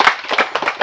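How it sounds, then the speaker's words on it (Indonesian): Hands clap in a short run of about five quick claps, close and fairly loud, with no talk over them. "Tepuk tangan."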